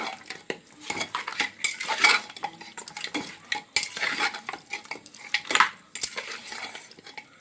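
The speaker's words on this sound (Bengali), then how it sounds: "আমার মাংসটা কষানো চলছে" Mutton being stir-fried in a pan with a little oil: repeated scraping and clanking of a metal spoon against the pan in irregular bursts over a low sizzle, close and fairly loud, with no talking.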